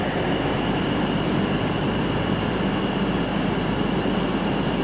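A nine-car train at London Euston station, a steady loud rumble of rolling stock and platform noise filling the whole span without a break, no voices.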